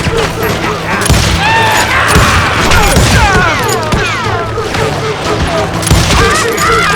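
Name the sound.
gunfire in video game Call of Juarez Gunslinger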